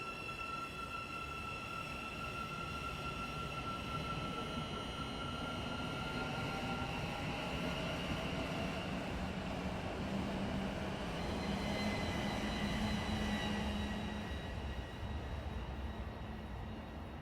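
A British train departs in the Train Sim Classic game with a steady rumble of engine and wheels. A faint high whine rises and falls across it, and the sound stays continuous and fairly even for the whole stretch.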